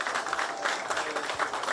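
Dense applause from a crowd at a political party event, a steady wash of many hands clapping at once, fairly close and sustained throughout.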